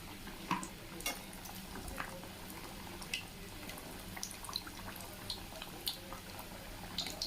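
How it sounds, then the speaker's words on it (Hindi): Wheat flour spinach samosas deep frying in oil in a kadhai, a steady soft sizzle and bubbling with scattered pops and crackles, fairly faint and continuous with no talk. "तो इसी तरह से हम सेकंड बैच के भी फ्राई कर लेते हैं।"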